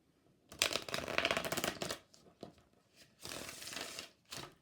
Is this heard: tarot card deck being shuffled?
yes